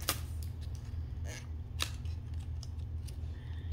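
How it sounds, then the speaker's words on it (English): Scissors snip in a kids' science-experiment setting, with a few sharp, close cuts spaced irregularly over a faint steady low hum, and no talking. "Use the scissors"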